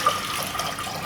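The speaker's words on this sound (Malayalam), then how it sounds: "കുറച്ച് വെള്ളം ഒഴിച്ചിട്ടുണ്ട്." Water poured into a cooking pot for boiling potatoes and eggs, a short, steady splashing trickle lasting about a second with no voices.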